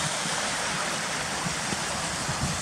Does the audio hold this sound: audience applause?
no